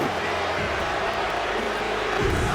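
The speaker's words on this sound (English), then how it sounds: "half of the crowd booing" Steady wall of arena crowd noise in WWE 2K26, a dense broadband roar that reads as booing, continuous and fairly loud with no clear breaks.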